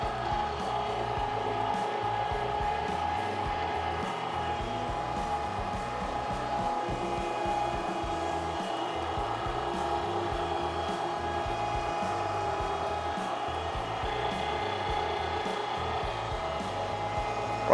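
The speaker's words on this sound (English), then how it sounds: "Turn your grinder on." Electric meat grinder running continuously while meat is passed through for summer sausage, a steady mechanical whir with ratcheting gear chatter, even and close, no speech.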